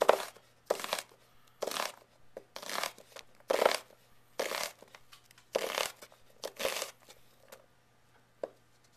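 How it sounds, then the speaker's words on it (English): A knife chops an onion on a cutting board in a series of distinct bursts of crisp crunching strokes separated by short pauses, close and clear. "Now you can start to chop the onion."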